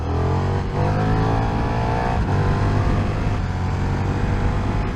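A KTM 1390 Super Duke R motorcycle engine pulls hard out of a corner, its loud, steady roar rising in pitch as it accelerates, with constant wind rush over the whole stretch.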